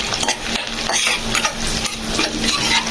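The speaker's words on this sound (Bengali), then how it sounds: "রসুন দিলে এরকম করে এগুলাকে একটু আমি হালকা একটু ভাজবো" Close, busy sizzling of garlic frying in oil, with repeated scraping and stirring strokes of a utensil against the pan.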